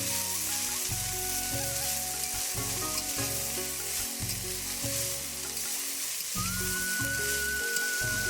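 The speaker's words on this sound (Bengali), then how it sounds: "কড়াইয়ে তেল গরম করে তাতে কালো জিরে আর শুকনো লঙ্কা দিয়ে শাকগুলো দিয়ে নেব" Kalmi greens (water spinach) frying in hot oil in a wok with nigella seeds and dried chilli, a steady loud sizzle throughout with a tonal hum running underneath, no talking.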